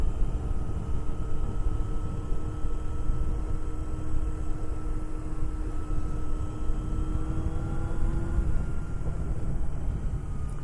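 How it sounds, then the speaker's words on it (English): A Yamaha FZR400RR motorcycle being ridden, its engine droning as a steady tone that rises slightly and then drops away beneath heavy, constant wind rush, with no talk. "this bike, I mean, you know, has an interesting sound to it"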